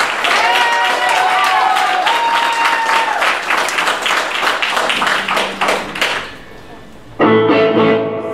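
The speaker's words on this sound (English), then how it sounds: "I want you to give Hanna a round of applause" Concert audience applauds loudly for Hanna, a performer playing with the band for the first time; sustained clapping with a musical tone sounding through, then a sharp burst of sound after a brief dip.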